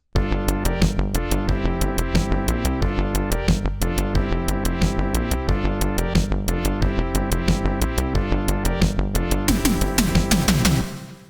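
A loud synthwave pattern from a Woovebox with a steady, driving drum beat runs continuously, then stops abruptly near the end.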